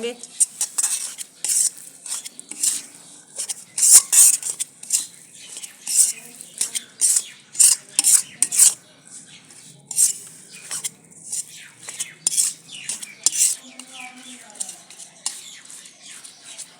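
Maize flour roasted in a pan for makki atta barfi, stirred with a metal utensil: a rapid, irregular run of close scraping and clinking strokes against the pan, with a faint sizzle underneath.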